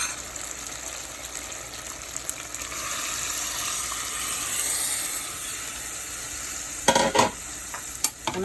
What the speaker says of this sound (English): I'm gonna go ahead and I'm gonna pour my water.